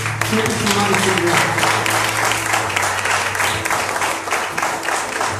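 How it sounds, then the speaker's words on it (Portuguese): A church congregation applauding loudly, a thick continuous wash of clapping with a sustained organ or keyboard tone underneath and a few voices mixed in. "Vamos dar uma salva de palmas, Senhor."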